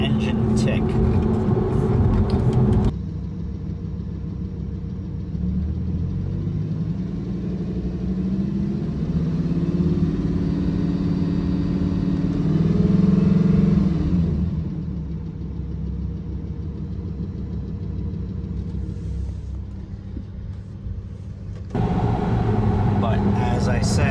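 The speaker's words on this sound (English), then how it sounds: "And then there's an engine tick." A Lamborghini engine, in a car with a ticking engine and possible past accident damage, runs in a steady, close, low drone that swells midway, with muffled voices in the background.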